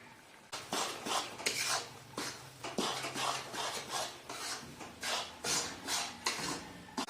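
Flour being roasted with jaggery and edible gum for sukhdi in a pan, with a spoon scraping and clanking against the metal in a steady repeated stirring rhythm, close and moderately loud, with no voices.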